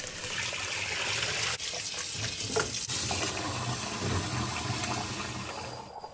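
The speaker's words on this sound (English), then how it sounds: "rinse the oxtail and beef bones until clean, then drain and set aside" Oxtail and beef bones are rinsed under a kitchen tap, with running water gushing and splashing steadily and close, broken by a couple of brief shifts as the bones are handled.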